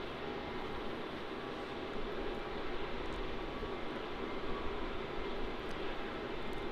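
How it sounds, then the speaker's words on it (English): A Virgin Australia passenger jet from Sydney on short final to runway 16 at Melbourne Airport makes a steady, broad engine roar that holds at an even level, fairly distant and without talk. "It's going to be flight VA812, sorry, from Sydney. And there it is on short finals for runway 16."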